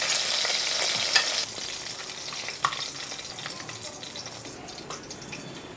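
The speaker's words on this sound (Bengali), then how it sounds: "মাঝারি ধরনের মাছগুলোকে আমি ভেজে নিয়েছি" Pieces of catla fish frying in oil in a pan, with a bright sizzle and scraping stirring near the start that eases to a softer, steady crackle with scattered pops.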